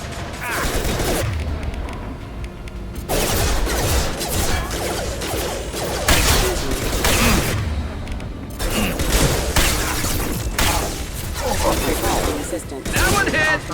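Rifle fire in the video game Mass Effect 2, dense loud bursts of shots and impacts repeating in waves over a busy combat mix, with a voice speaking at times.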